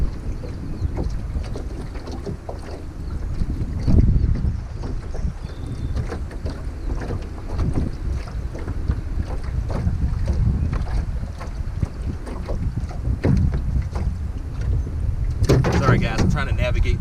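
Strong wind buffeting around a jon boat on open water while bass fishing, a steady loud rush with gusts and occasional knocks, with someone talking over it.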